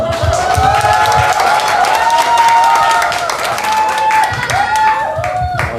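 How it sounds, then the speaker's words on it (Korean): A crowd at a live speaking event applauds and cheers loudly, with dense clapping, whoops and voices blending together across the whole stretch. "막 환호하고 막 그러네."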